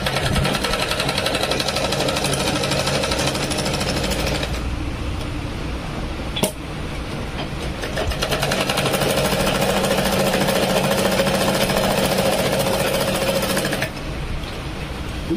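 A sewing machine on its stand runs at speed in a loud, close, rapid mechanical rattle, checked after its thread tension was adjusted. The run has a brief break near the middle and a change in pace toward the end, with no talking.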